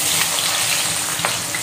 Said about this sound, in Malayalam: നമുക്ക് ഉള്ളി ഇട്ട് കൊടുക്കാം.